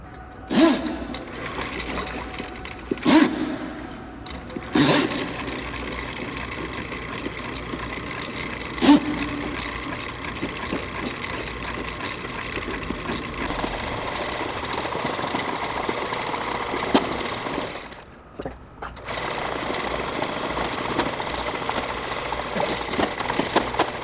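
An electric drain cleaning machine works a cable into a garage drain clogged with dirt from pressure washing, making a steady motor whir and rattle. Sharp clicks and knocks break in now and then, and the machine cuts out briefly near the end.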